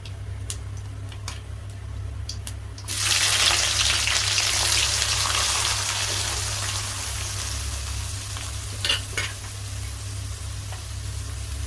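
Chopped onions hitting hot oil in a pan for prawn kulambu, a sudden loud burst of sizzling that settles into a steady hiss with a few scraping stirs, no voices.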